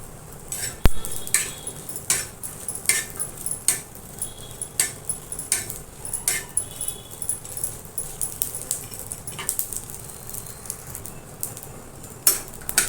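Dried bombil fish is roasted in a little oil in a pan, making a steady run of metallic scrapes and clinks from a spatula against the pan over a faint sizzle, close and with no talk.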